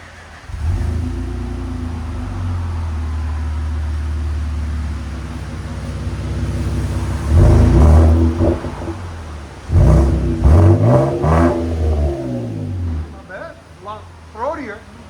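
A 2023 Nissan Frontier Pro-4X with its 3.8L V6 and a BIGBOZ equal-length loop exhaust with a new tip idles steadily, then is revved hard in several sharp bursts. The engine is loud and close, with voices talking over it.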